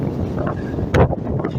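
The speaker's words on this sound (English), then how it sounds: "I'm just casually getting sanded down right now with the wind." Strong gusty wind on the Pacific Northwest coast near Astoria roars across the microphone in a loud, constant rumble with a brief sharper gust, and no clear talk.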